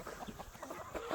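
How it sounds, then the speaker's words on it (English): Chickens and small chicks clucking close by, a quick run of soft, choppy clucks and peeps in an uneven rhythm, faint and brief. "We got chickens and chicks."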